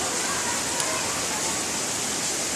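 River water flows in a steady, loud broadband rush that stays constant from start to finish, with no distinct splashes or breaks.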